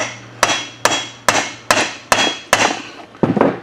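Six or seven sharp, evenly spaced hammer blows ring out close and loud, struck while the crankshaft of a Polaris Ranger 500 bottom end is held still, each hit leaving a short metallic decay.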